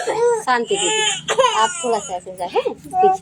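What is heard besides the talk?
baby crying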